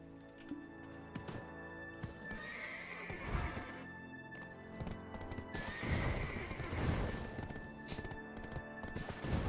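A Doom horse in the online game Black Desert neighs and whinnies amid the clatter of hooves, with thick layered game sound and music running underneath the whole time.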